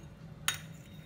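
A spoon gives a single short clink against a bowl while a smooth paste with vinegar is mixed for a spicy onion salad, followed by quiet kitchen stillness.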